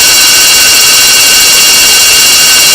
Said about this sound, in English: the alarm clock, it sure jotted me